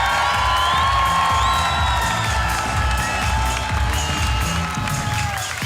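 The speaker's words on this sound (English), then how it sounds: "let us stand up and give a huge round of applause to the host country" A large stadium crowd at the opening of a university games cheers and applauds the host country's team, Team Malta, a loud, sustained roar of shouts, whoops and clapping with whistling tones threaded through it.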